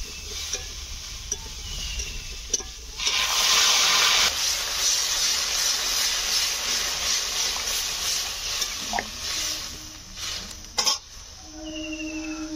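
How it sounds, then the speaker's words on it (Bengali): Hot water poured into a pan of rohu fish curry after the spices have been fried down, setting off a loud burst of hissing steam and sizzle that fades into a quieter bubbling simmer with light clatter. "এবার আমি জল দিয়ে দেবো।"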